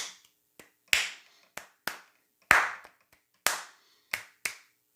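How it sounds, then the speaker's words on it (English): Sharp, dry hand claps or taps beat out a rhythm in a quiet room, spaced unevenly, with some accented strikes louder than others, and no other sound between them. "a simple way to get your head around this, if you don't have a lot of experience, is just tap out the rhythm"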